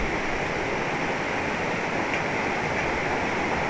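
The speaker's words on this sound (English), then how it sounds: "Check out the river." A river on a gold claim rushes in a steady, broadband roar of flowing water, continuous and close with no voices.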